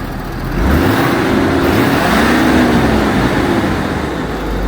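A steady, loud truck engine drone, likely a 6.7 diesel, with a whooshing cooling-fan roar runs continuously nearby, its pitch rising and falling slightly as it revs.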